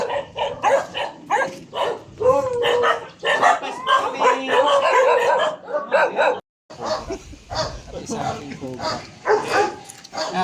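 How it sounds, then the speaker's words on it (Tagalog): Several big dogs bark close by in rapid, overlapping volleys, loud and continuous, mixed with people talking over them. "Lalaki ng mga aso."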